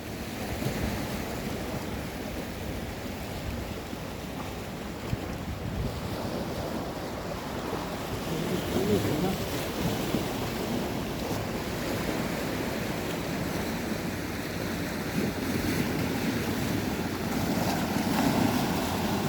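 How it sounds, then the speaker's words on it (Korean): Choppy sea waves, stirred up by a cruise boat that has just left the Taejongdae coast, wash and slosh steadily under gusty wind buffeting the microphone, with the rush swelling slightly over time. "지금 파도가 제법 치고 있는데요"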